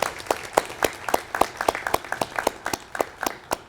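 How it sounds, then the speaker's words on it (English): Applause from an audience at a university hooding ceremony, steady clapping with distinct individual claps standing out, moderately close and continuous throughout. "Let's give him a round of applause"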